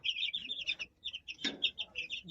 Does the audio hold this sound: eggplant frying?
no